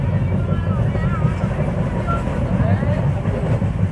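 Steady low rumble of a moving passenger train carriage between Howrah and Bangalore, continuous and fairly loud, with faint voices and children's chatter mixed into the background.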